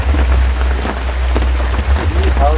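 Rain pours down outdoors in a steady, dense roar of drops hitting surfaces, loud and close throughout.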